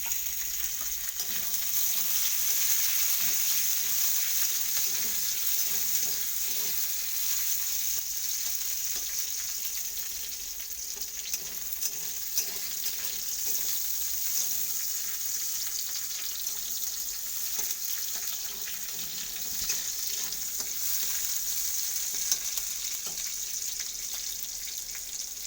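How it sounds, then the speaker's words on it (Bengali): Green chillies fry in mustard oil in a pan, a steady bright hiss and sizzle that goes on without a break, with faint stirring scrapes underneath. No one speaks. "আর এই লঙ্কাগুলোকে হালকা করে ভেজে নেবো।"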